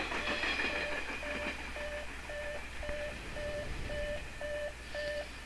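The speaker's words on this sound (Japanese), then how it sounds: "次やってきたのは荷物列車でね" A locomotive-hauled baggage train passes on the Hokuriku Main Line near Isurugi, Japan, in 1983, rolling steadily with a continuous rumble and a regular, repeating rhythmic clatter of wheels over rail joints, fairly close and loud.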